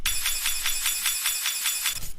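A glass sound sample layered into an electronic music track: a rhythmic series of bright, glassy twinkling hits, about ten evenly spaced pulses, crisp and close, standing alone without talk.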